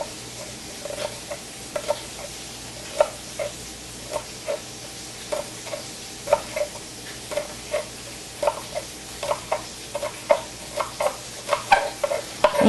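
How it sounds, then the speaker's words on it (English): Green onions sizzling in a pan on a kitchen cooking show, a low steady frying hiss broken by regular light taps and scrapes of a utensil as they are stirred. "I'm just going to throw a couple of these onions in."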